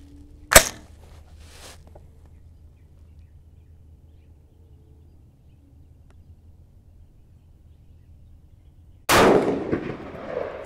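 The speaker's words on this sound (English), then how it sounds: "Take a third shot here." Two sharp 224 Valkyrie handload rifle shots at an outdoor range: one loud crack near the start, then a second, broader blast close to the end after a long quiet stretch.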